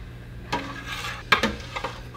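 Homemade yogurt starter being stirred into a cup of milk, with a utensil clinking and scraping against the container in a few short, close knocks over faint background hum.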